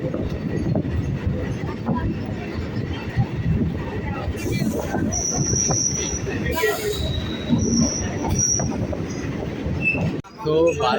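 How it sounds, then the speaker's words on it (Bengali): Passenger train pulling out of Duttapukur station on the Barasat line, with steady rumbling wheels and loud high-pitched wheel squeals recurring midway, heard from on board; voices talk in the background. "আমাদের ট্রেনটা এখন ছেড়ে দিচ্ছে দত্তপুকুর স্টেশন থেকে"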